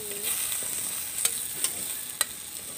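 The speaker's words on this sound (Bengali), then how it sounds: "কাঁচামরিচ আর রসুনগুলো আবার ভাইজে নিব সিদ্ধ করা" Green chillies and garlic fry in oil with a soft, continuous crackle. Three sharp utensil taps cut through it, and a faint tone glides briefly near the start. No one speaks.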